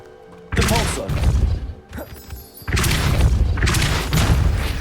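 Confringo, a fire-blast spell in the video game Hogwarts Legacy, goes off in heavy, loud booming crashes, with one burst and then a longer rumbling explosion after a brief lull.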